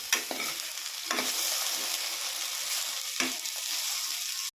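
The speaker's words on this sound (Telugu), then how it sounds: "పెనం పెట్టి బెండకాయలు వేసుకొని ఒక 10 మినిట్స్ బాగా ఫ్రై చేసుకోవాలి" Sliced okra (bendakaya) fries in a pan for an Andhra-style curry, giving a steady close sizzle broken by a few sharp scraping stirs, with no one talking.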